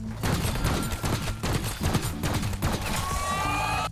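Rapid rifle fire from an SVD sniper rifle in a Black Ops 6 Zombies match, a dense, loud run of sharp overlapping shots mixed with game effects and no pauses.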